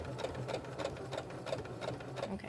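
A sewing machine stitches a fabric face mask in quick, steady bursts, its needle chattering rhythmically and close up with short pauses between runs.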